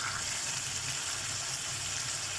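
Beetroot chicken sizzles steadily in a pan, a continuous close crackle of frying with no pauses and no voices.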